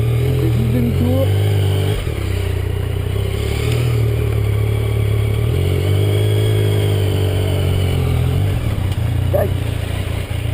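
A Yamaha Tracer 900 GT motorcycle with its stock exhaust runs and rides outdoors, giving a loud, continuous engine drone with shifting revs and heavy wind rumble throughout.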